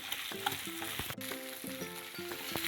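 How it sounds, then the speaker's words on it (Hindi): Sliced potatoes with salt are tossed in a pan on the stove for aloo katli. A light sizzle runs underneath, and repeated soft scraping and clinking comes from the utensil turning the slices. "अब इसे अच्छे से टॉस कर लेंगे ताकि सब चीज़ें अच्छे से मिक्स हो जाए।"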